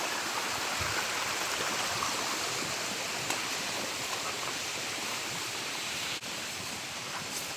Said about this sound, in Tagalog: Bumabagsak na tubig galing doon sa taas.